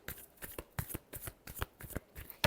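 A tarot deck being shuffled by hand, with a quick series of crisp, riffling card slaps and flutters in short bursts, close and fairly quiet, ending in a brighter final snap.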